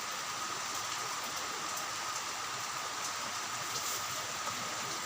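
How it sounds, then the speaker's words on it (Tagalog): Steady heavy rain pouring continuously, a dense even hiss with no breaks or voices. "Bumuhos din ang ulan."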